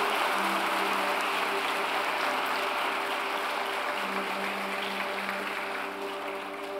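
A church congregation applauds steadily in a hall, a dense even clatter of clapping sustained throughout with a faint tonal hum beneath.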